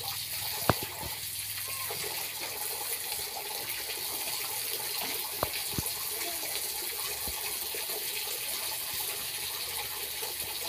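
Running water splashes steadily while the mouth is rinsed three times during ablution, a faint, even trickle with a few small knocks and no talk.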